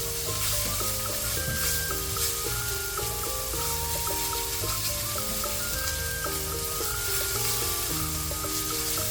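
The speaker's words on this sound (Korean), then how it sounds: "마늘 기름 좀 뽑아낼게요." Garlic frying in hot oil to draw out garlic oil sizzles loudly and continuously up close, a dense, even crackle with faint metallic clinks from the pan.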